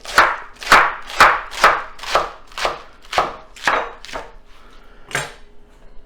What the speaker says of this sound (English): We're going to chop this up